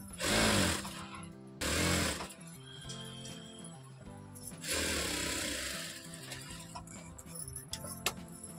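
A sewing machine stitches a blouse placket in short bursts of rapid mechanical whirring, several separate runs of varying length with pauses of quieter clatter and handling noise between them.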